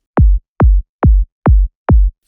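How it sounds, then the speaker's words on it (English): Five evenly spaced psytrance kick drum hits, each a short dull lo-fi thump with a soft attack, loud and isolated with clean gaps between them. "In this track I created the kick,"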